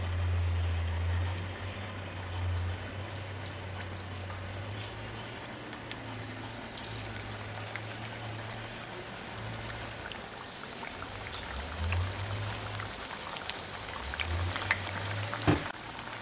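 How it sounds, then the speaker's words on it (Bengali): Evening snacks frying in hot refined oil in a wok, a continuous soft hiss and bubbling like light rain, steady and close with an occasional clink near the end. "তেল আমাদের গরম হয়ে গেছে এখন আমি এগুলোকে ভাজার জন্য দিয়ে দিলাম"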